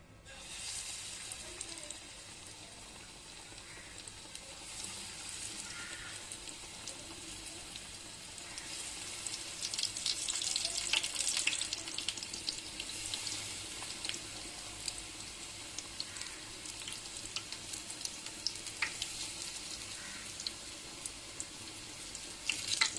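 Ajwain leaf bajji fry in hot oil in a home kitchen, a steady soft crackling sizzle that thickens and grows louder midway, faint and continuous with no talking.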